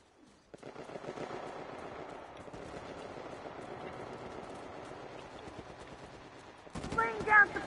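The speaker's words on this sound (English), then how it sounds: "Laying down suppressive fire!" Suppressive automatic gunfire in Uncharted 4 multiplayer: a long, fairly faint rattle of rapid shots with steady rhythm, ending in a louder burst of noise near the close.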